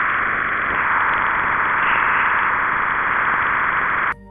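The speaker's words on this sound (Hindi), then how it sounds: "जुपिटर का साउंड आप सुन सकते हैं।" Jupiter radio and plasma wave emissions recorded by the Juno spacecraft and converted to sound form a steady, loud hissing roar that persists without a break, then cuts off abruptly near the end.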